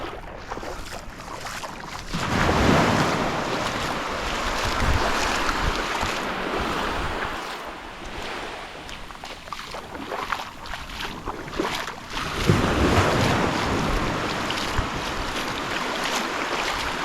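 Gentle waves wash into a beach cove at Casapsapan Beach in Casiguran, Aurora, a steady broad hiss with two soft swells breaking nearby, mixed with wind.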